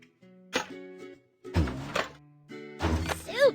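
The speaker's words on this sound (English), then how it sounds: "The wheel is broken. Pick up all the junk with pliers." Video-game pliers pick junk from a broken dump truck wheel: three short clusters of clunks and clinks, each over a soft tonal game chime, with quiet gaps between.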